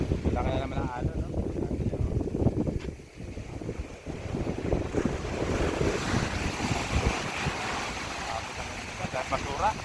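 Large ocean waves breaking near a small boat at sea, a continuous rushing roar of surf mixed with heavy wind buffeting the microphone, with someone talking over it.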